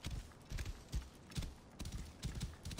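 Horse hooves clip-clopping at a steady rhythmic pace while riding through the desert at night in the video game Assassin's Creed Origins, soft and moderately close with no talking.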